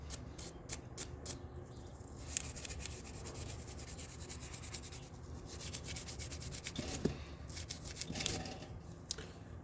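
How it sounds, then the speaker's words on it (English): A can being scraped clean: continuous gritty rubbing and rasping strokes up close, steady and moderately loud, with a few sharper scratches, no voices. "I guess some scraping is required"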